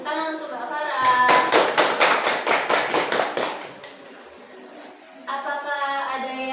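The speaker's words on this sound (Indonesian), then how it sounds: "Tepuk tangan untuk Mbak Farah." A classroom full of students claps together for a classmate's correct answer in a lesson, a rhythmic, fairly loud burst of about a dozen beats. Voices talk before and after it.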